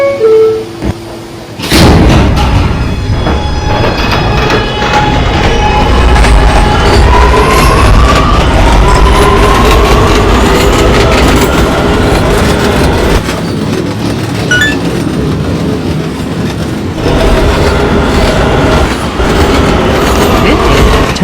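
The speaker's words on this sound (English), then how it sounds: "This is a 207th Street bound A train." An MTA New York City subway A train, running late at night on the C line, rumbles steadily with rhythmic clickety-clack of wheels on rail joints and occasional faint wheel squeal, loud and close from inside the car, following a sharp slam near the start.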